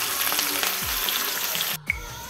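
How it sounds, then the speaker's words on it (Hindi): Garlic fries in hot oil in a kadhai, a close, steady crackling sizzle with a brief interruption and a clink near the end, no talk. "इसमें डाल दिया हूँ कढ़ाई पे तेल, देखिए, और मैं डाल दिया हूँ लहसुन, देखिए थोड़ा से भूनने देते हैं दोस्तों लहसुन को"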